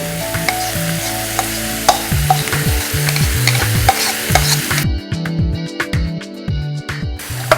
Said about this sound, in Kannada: ಇದರ ಹಸಿ ಘಾಟು ಹೋಗೋ ತನಕ ಇದನ್ನು ಬಾಡಿಸ್ಕೋಬೇಕು